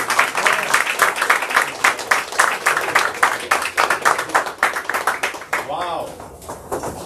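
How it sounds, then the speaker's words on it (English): A standing audience gives a warm California welcome to a company sales VP with loud, rhythmic clapping in a strong unified beat, trailing off near the end as a voice briefly rises over it. "please stand on your feet and welcome with a warm California applause"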